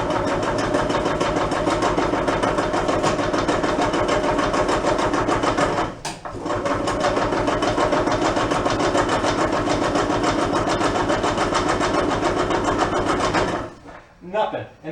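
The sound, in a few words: old gas-powered golf cart engine cranking, failing to start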